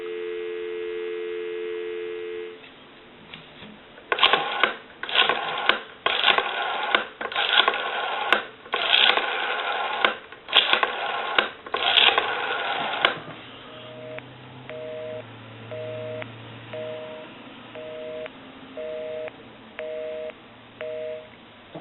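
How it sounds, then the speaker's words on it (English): A Western Electric 302 rotary desk telephone handset plays a steady dial tone, then a series of clicking dial pulses, followed by a repeating busy signal with low hum underneath. "Give you some dial tone."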